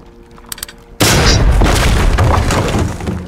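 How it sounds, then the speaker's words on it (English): An explosion in the tactical shooter Ready or Not hits loud and sudden, followed by a dense, sustained roar of blast debris and full-auto gunfire that keeps the level high to the end. "That's a nice big explosion."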